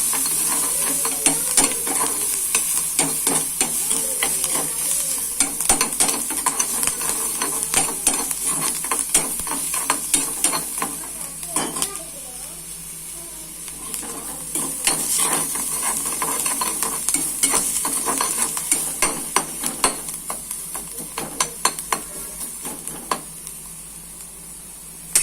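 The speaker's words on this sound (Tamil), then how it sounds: "இது நல்லா ப்ரௌனிஷ் ஆகிற அளவுக்கு சாட்டே பண்ணிக்கோங்க." Onions tossed with salt in a pan, sautéing until brownish: a steady close sizzle with frequent sharp scraping and stirring clicks of a utensil against the pan, alone without talk.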